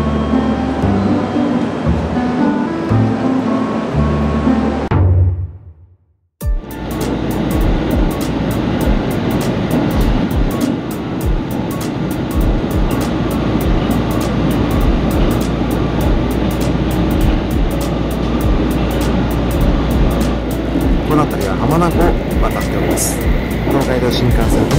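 A train near Hamamatsu, Japan, rumbles steadily across a bridge with rhythmic clacking from the wheels, while a person talks over the noise.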